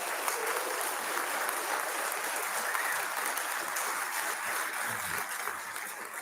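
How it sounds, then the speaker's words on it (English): A crowd at a City of Milton State of the City address applauds its volunteers, a steady, dense wash of clapping sustained throughout at an even level, tapering slightly at the end. "How about a round of applause for all the volunteers who make Milton special?"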